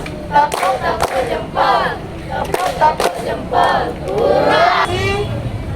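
A class of gymnastics students claps a thumb-clap pattern in unison, with sharp group claps landing in bursts between loud shouted voices of children and a teacher.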